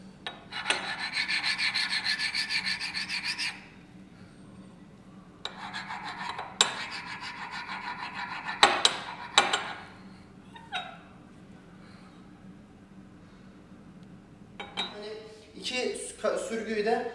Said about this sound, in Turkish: Elimde bir tane böyle namlu var. Onunla her iki tabancanın sürgünün üst tarafını çizeceğim ben.